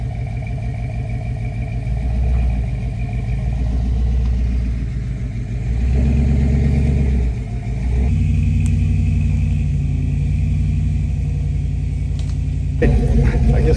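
A heavy SUV engine rumbles low and steady as it slowly crawls uphill off-road, the note swelling and easing with small throttle changes, close and continuous with no talking.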